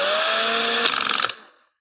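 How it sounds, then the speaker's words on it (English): Small power drill running with a steady high whine while boring a hole in a homemade end table lamp built from Hemi connecting rods, rattling briefly as the bit bites, then winding down into silence. "So let's grab our small drill bit again."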